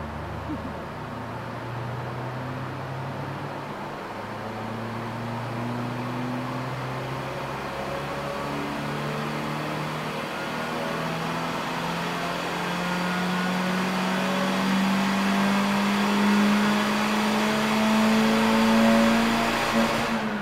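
A city hatchback on a racing build accelerates at full throttle, its engine note climbing steadily in pitch and loudness over about twenty seconds as it pulls through the gears, heard alone without talk.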